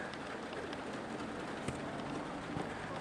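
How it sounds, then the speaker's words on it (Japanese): Steady rain falls and patters on a surface outdoors while racing pigeons are handled under an eave, a continuous broadband hiss with a few louder drop impacts, no talk. "突然雨が降ってきちゃったから"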